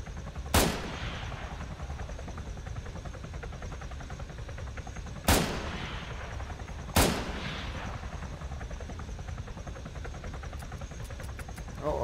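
Three sharp, loud gunshots in a video game, widely spaced against a steady low background hum, each with a short decaying tail.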